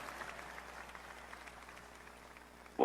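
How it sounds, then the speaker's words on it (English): Audience applause for Chicago's Al's Italian Beef at a live show: a steady, moderate patter of many hands throughout, ending in a sudden louder burst. "let's give Al's Italian Beef an enormous round of applause"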